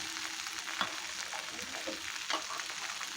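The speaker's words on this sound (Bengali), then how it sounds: "কাঁচা লঙ্কা আর আদার পেস্ট দিয়ে দিলাম। দিয়ে মশলা দিয়ে খুব ভালো করে এগুলো নেড়ে নেব" Green chilli and ginger paste with spices fries in a pan under a constant soft sizzle, with a few scraping stirs of a spoon at intervals, close but fairly quiet, with no one talking.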